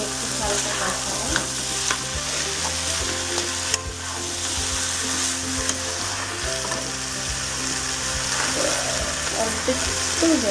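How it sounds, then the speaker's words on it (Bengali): Fried potatoes being sautéed with banana flower in a pan, loud continuous sizzling with frequent scraping and clattering of a spatula against the metal, close up and without speech. "ডাল মোচাটা কষাবার পরে আলুটার মধ্যে ভেজে রাখা আলুগুলো দিলাম, একটু হালকা কষালাম"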